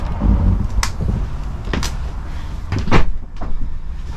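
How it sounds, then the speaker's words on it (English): A wide Hartlepool entrance door on a Swift motorhome is opened and shut, giving several close, distinct clunks and latch knocks spread over a few seconds, with handling noise between them and no talk. "So coming inside then, you get the nice wide Hartlepool door."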